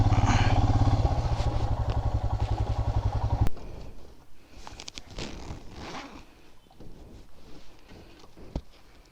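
Motorcycle engine running loudly up close for a few seconds, then cutting off as the bike is parked, followed by quiet clicks and shuffling.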